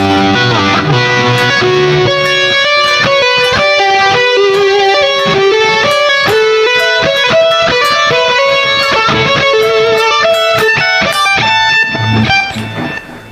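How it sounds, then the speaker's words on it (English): Backwards electric guitar overdub from the outro of a song, loud and dense with swelling reversed notes over a steady rhythm, with no talking. "over that is a very cool backwards guitar overdub that sounds like this"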